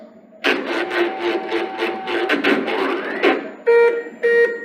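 An APSX-PIM injection molding machine running continuously to make parts gives off a busy run of rasping, clattering mechanical noise, followed by two loud, steady electronic beeps near the end.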